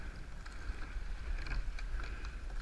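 A women's rowing crew trains on the water. Boat and water noise rumbles steadily under wind buffeting on the microphone, and the individual oar strokes are hard to pick out.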